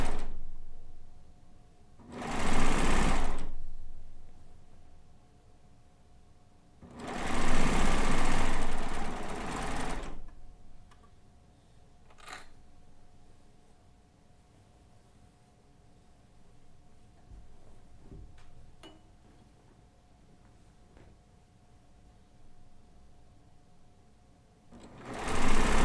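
A sewing machine stitches a quilt border in two loud bursts of rapid mechanical whirring, each a few seconds long, separated and followed by quiet handling noises and a few soft clicks, with a final burst starting at the end.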